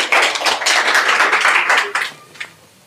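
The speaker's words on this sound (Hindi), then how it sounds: "तो इनके लिए भी एक बार ताली बजा दीजिए आप सभी लोग" An audience applauds a student who answered all 25 test questions correctly: a dense, steady round of clapping for about two seconds, then it thins out and stops.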